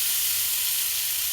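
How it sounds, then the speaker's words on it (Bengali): Noodles fry in a pan with a steady, bright hiss and sizzle, close and continuous throughout without any talk. "এবার ভালো করে সব ভেজে নিচ্ছে"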